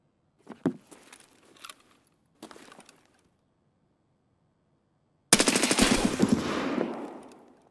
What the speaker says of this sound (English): That sounded like an AK.